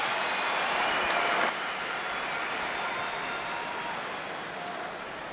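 A rugby crowd at a Leinster vs. Leicester Tigers Champions Cup match applauds and cheers as Jamison Gibson Park leaves the field. The roar is loud and steady throughout, swelling briefly at the start before easing slightly.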